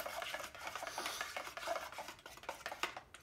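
Gloss enamel paint being stirred in its can, a close, steady scraping and rubbing with rhythmic strokes, fairly quiet and alone without talk.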